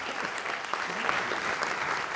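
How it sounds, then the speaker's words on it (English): Audience applause at an opening press conference fills the short stretch, a dense even wash of clapping at moderate volume from a crowd. "Let's give a round of applause."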